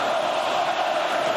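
An arena crowd at a Stanley Cup Final hockey game, Oilers against Panthers, roaring and cheering in a steady sustained wall of noise that fills the space.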